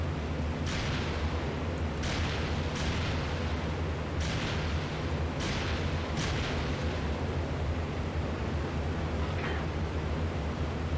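A P-38J fighter in IL-2 Great Battles looses rockets in several separate whooshing bursts spread over several seconds, each rising briefly above a constant loud engine drone.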